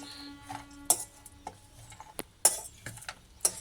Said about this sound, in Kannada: ಈಗ ಇದನ್ನೆಲ್ಲ ಚೆನ್ನಾಗಿ ಮಿಕ್ಸ್ ಮಾಡ್ಕೊಳ್ಳೋಣ